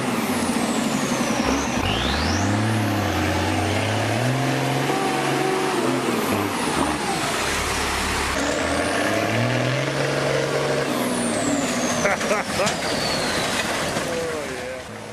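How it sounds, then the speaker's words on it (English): An M35A2 military truck grinds loudly and continuously through a muddy road, its engine revving up and down in strained surges with air-brake hisses and high whines over the top. "The M35A2 military truck is facing a big challenge when trying to get off the muddy road."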